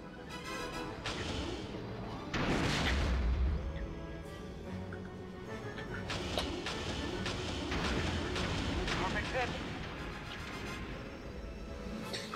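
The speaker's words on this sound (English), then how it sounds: "Guess I gotta keep dropping bombs." Bombs and missiles burst in a Star Wars Rogue Squadron II space battle, with a heavy low boom early on and scattered crashes and rumbling explosions over a constant engine and combat din.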